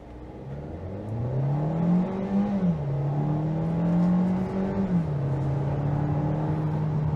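A 2022 Kia Seltos Nightfall subcompact SUV pulls away from a stop in sport mode. The steady engine drone rises in pitch, drops at a gear change and climbs again, loud and close from inside the cabin.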